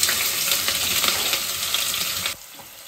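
Onions sizzle steadily in hot oil with whole spices, a dense, close frying hiss broken by small stirring clicks, until it cuts off sharply near the end.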